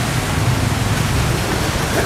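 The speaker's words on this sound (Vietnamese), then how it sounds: "Mưa quá trời là mưa luôn" Heavy rain pours down as a dense, loud, steady hiss that fills the whole stretch, with no voices.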